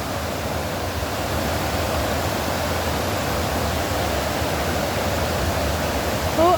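River water flowing steadily along the Averon riverside, a dense continuous rushing wash heard close and fairly loud throughout, with no talking over it.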